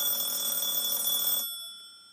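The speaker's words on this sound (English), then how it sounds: "I get a phone call during the video?" An incoming call on a phone rings as a loud, bright electronic tone sustained for about one and a half seconds, then stops abruptly with a brief fading tail.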